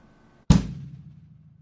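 A bass drum and hi-hat struck at once on a basic drum kit, one loud isolated hit with a low boom and crisp metallic splash fading over about a second.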